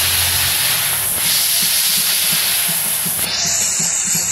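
Ginger garlic paste and spices fry loudly in hot oil in a village kitchen pan, a strong continuous hiss and sizzle up close that cuts off abruptly near the end.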